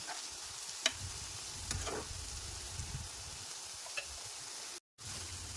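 Sliced okra and onion fry in a pan with a soft, faint sizzle, punctuated by a few light scrapes and clicks of stirring and one brief break in the sound.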